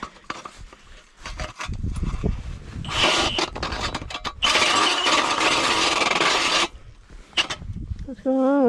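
A cordless ice auger drill runs on a cold battery while boring through ice at the start of ice fishing season. It gives uneven grinding bursts that stop and restart, with people talking nearby.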